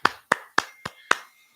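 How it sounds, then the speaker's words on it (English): Claps ring out for Hudson during a live chat. Six sharp, evenly spaced slaps sound close and clear, more like one or two people than a full audience. "round of applause for Hudson"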